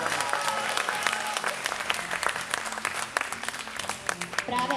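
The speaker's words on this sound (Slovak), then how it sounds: "Ešte raz poprosím obrovský potlesk pre túto krásnu slečnu." Audience applause at a Slovak pageant event honoring a Deaf World first runner-up beauty winner, a dense wash of clapping held steady for about five seconds with some crowd noise mixed in.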